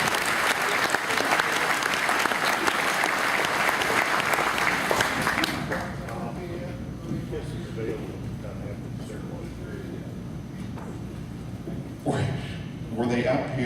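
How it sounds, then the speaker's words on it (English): Loud applause from the crowd at an Indy 500 Oldtimers barbecue gathering, thick clapping for about five seconds before thinning to scattered claps and room murmur, with a brief renewed burst near the end. "Big round of applause for these people."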